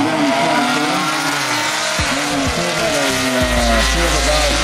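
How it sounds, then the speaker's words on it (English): A black-and-white muscle car with a black rally stripe runs down a drag strip at a Southeast Shindig event, its engine loud and near, revving and shifting with rising, falling tones over a constant roar. "Good looking car going down the track there."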